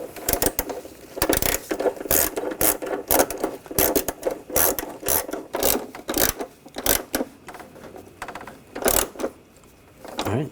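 A ratchet tightens the battery hold-down on a 2004–2012 Chevrolet Colorado, giving rapid close clicking bursts in uneven strokes with short pauses, alone without talk.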